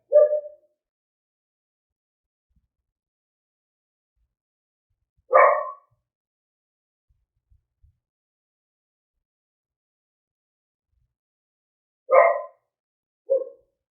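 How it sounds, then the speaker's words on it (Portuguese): A dog barks at someone passing in the street, giving four short, sharp bursts of barking spaced out across long stretches of quiet, fairly close and loud. "Alguém passou na rua e ela começou a latir."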